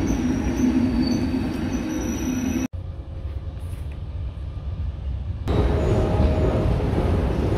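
Train rumbling and rolling at a railway station in Hungary, steady and fairly loud throughout, with a brief cut and a quieter stretch in the middle before the full rumble returns.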